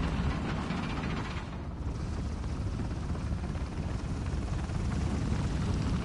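A helicopter in the Uncharted video game drones with a dense, steady rotor roar, loud and close, filling the scene without pause.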